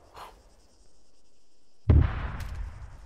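A single heavy artillery boom in the video game Operation Starlight, a deep close thud with a rumbling tail following a faint earlier pop, no talk.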